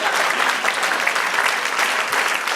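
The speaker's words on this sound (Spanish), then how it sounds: "Den un aplauso al Señor." A church audience claps together in a brisk, continuous burst of applause, loud and close, with no pauses.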